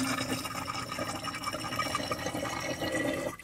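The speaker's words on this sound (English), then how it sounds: "now we will dilute the acid with about 200 milliliters of distilled water" Distilled water, about 200 milliliters, is poured into concentrated sulfuric acid, giving a steady, moderately loud liquid pouring and bubbling sound that continues throughout with no talking.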